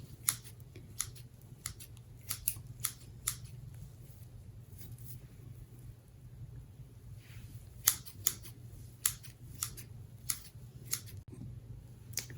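Scissors snip through Easter garland while trimming it into rabbit shapes for a cheap wreath: sharp, crisp cuts come in loose irregular bursts of several quick snips, close up, over a low steady hum.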